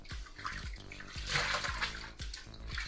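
A synthetic wig is pushed under water and rinsed, giving close repeated sloshing and splashing with soft trickles between the strokes.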